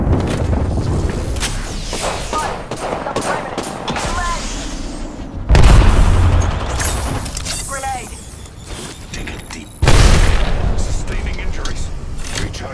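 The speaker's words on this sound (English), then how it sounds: "There is an airstrike inbound." Airstrike explosions in the video game Apex Legends, two heavy booming blasts with rumbling tails amid gunfire and game sound effects, while a voice talks over the action.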